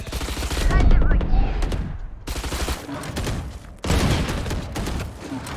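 Rapid Spectre submachine gun fire in Valorant, loud close bursts in two long volleys separated by a short pause, with a player's voice faintly underneath.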